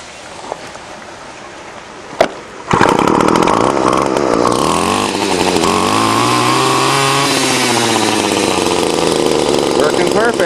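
A gas string trimmer, repaired after broken fuel lines and a dirty carburetor, is pulled once or twice, then fires and runs loudly at a steady buzzing idle that wavers slightly in pitch, close up.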